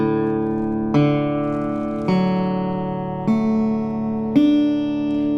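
Six open strings of a National Resophonic guitar in open D tuning are plucked one at a time from lowest to highest, each ringing out bright and metallic with a long sustain before the next pluck.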